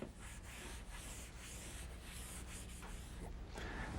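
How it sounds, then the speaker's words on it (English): A rag rubs clear Danish oil into cherry wood, giving a soft, close, continuous scrubbing swish with rhythmic circular strokes and no talk. "squeeze a little bit of the oil onto my rag, rub it into the wood in a circular motion, just like a hand rub finish"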